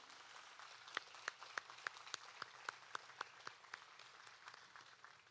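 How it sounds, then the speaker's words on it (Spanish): At the handover of the restored Santa Bárbara church, a sparse, faint round of applause for the restorers: a few distinct, evenly spaced claps ring out over a soft, distant wash of clapping. "Para todos ellos quiero pedir un fuerte aplauso también"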